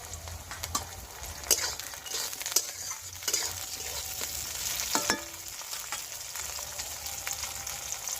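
Chopped tomato is stirred into onions frying in a pan, making a soft continuous sizzle with repeated utensil scrapes and taps against the pan, close and moderately quiet, with no talking.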